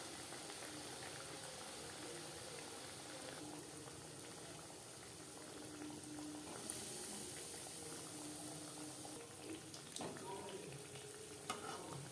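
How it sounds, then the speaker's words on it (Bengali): Vegetable chops fry in refined oil heated on high and then kept on a medium flame, giving a steady, dense bubbling sizzle throughout with no talking. "হাই ফ্লেমে তেল আমি গরম করে নিয়েছি চপগুলো ভাজবো মিডিয়াম ফ্লেমে"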